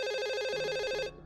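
A short electronic telephone ring from the video game Twilight Syndrome, a clear warbling tone that stops abruptly after about a second.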